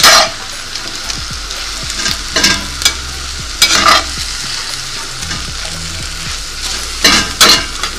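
Swiss chard being stirred in a hot frying pan for a potato and chard dinner, with steady close sizzling and frying and repeated scraping stir strokes that rise and fall in loudness; no talking.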